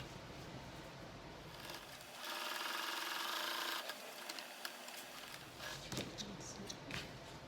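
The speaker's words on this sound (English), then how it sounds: "So I'll sew with a wider seam allowance." A sewing machine stitches a wide seam allowance on a reusable eco shopping bag, a quiet, close, rapid mechanical whir that runs in a continuous burst of a few seconds amid soft handling noise.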